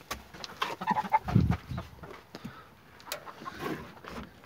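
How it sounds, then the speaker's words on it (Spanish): Hens cluck softly in a farmyard coop, with a rooster among the fowl; short bursts of clucking come and go at moderate distance over a low background. "vamos a abrirle acá a Adán con sus gallinitas"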